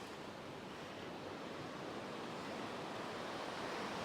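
Ocean surf breaking on rocks at a secluded Phuket beach in Thailand, a steady, broad wash of wave noise with some wind, continuous and fairly distant.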